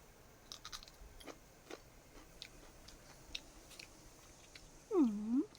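Fresh chili eaten with fried salted fish and rice, heard as soft, close bites and chewing crunches at an irregular pace. A short, loud, whining animal-like call sounds near the end.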